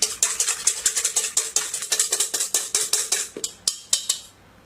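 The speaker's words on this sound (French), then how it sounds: "Nous allons donc casser les blancs." Eggs being cracked against a hard edge for macaron whites, a rapid series of sharp taps and clinks close up, steady and rhythmic, with no talking.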